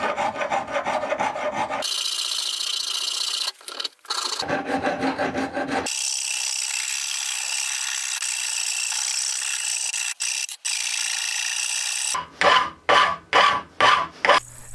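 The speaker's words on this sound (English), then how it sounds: "I do that mostly using old metal files and 80 grit sandpaper" An old metal file rasps across an oak wood slingshot in long, scraping passes, close and alone, broken by brief pauses, then a run of quick, short strokes at the end.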